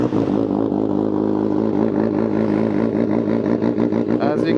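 A 2025 Kawasaki ZX6R motorcycle fitted with full headers and an M4 exhaust runs with a steady, throaty engine drone that rises slightly near the end, heard under someone talking.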